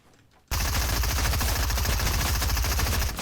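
Sustained rapid automatic gunfire sprays a player-built wall in Fortnite, a dense continuous burst lasting about three seconds after a brief quiet start, loud and close with no talk over it.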